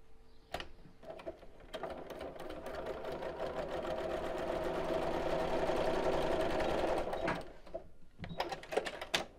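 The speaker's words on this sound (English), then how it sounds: "And then sew all around here" A sewing machine stitches steadily around the edge of a fabric circle pouch, a close, continuous mechanical whir that runs for several seconds before stopping, with brief handling clicks at the start and end.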